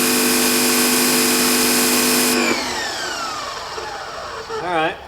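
An electric pressure washer sprays loudly and steadily through a narrower nozzle, with a sustained high-pitched whine that cuts off partway through, leaving a fainter hiss and a brief warbling tone near the end.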